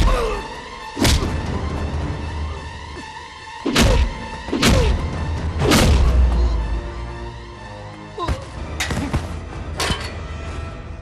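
Punches and blows land in a Hindi action movie fight scene, a handful of heavy, sharp thuds and cracks at irregular intervals over a low rumbling background, loud and close, with no talking.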